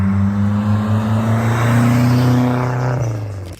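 A 1991 Dodge Spirit R/T engine revs loudly and close, a steady droning growl that climbs in pitch, then drops off and fades near the end, with no one speaking.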